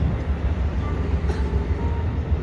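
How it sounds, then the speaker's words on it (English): A train rumbles past in Lovelock, Nevada as a steady, loud low roar of wheels and engine with a faint whistle-like tone above it, filling the moment with no talk. "we'll let that train go by a second"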